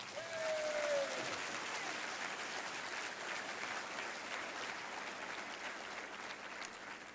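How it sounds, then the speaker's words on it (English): Applause fills a hall at a 2004 Democratic candidates forum, a broad, continuous clapping from a large audience, fairly distant and steady, with a brief tonal whine early on. "you ought to give yourself a round of applause"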